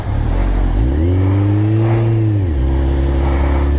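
An orange Kawasaki motorcycle ridden through Chicago blizzard snow revs up in one steady rising swell, holds, then drops back, with a loud, close, continuous engine drone throughout.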